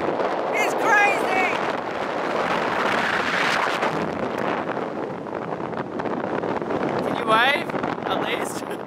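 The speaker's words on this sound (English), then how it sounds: "The winds are crazy strong." Strong wind buffeting the microphone on a beach in Western Norway, a loud, continuous roar with gusts, with brief voices and small bursts of other sound over it.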